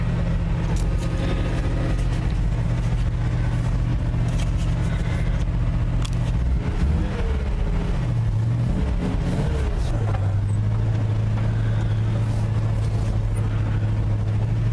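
A 1958 Chevy Napco 4x4 truck drives with a steady, loud engine drone that dips and shifts pitch midway, then settles into a higher, even hum, heard close with no talking.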